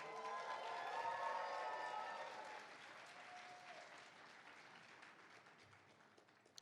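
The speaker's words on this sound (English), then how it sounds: "Give them a big round of applause." A convention crowd at BlerDCon 2025 opening ceremonies breaks into applause with some cheering, loud at first and gradually tapering off over several seconds.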